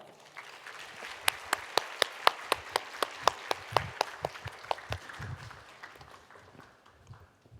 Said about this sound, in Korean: 따뜻한 박수로 같이 우리 환영하겠습니다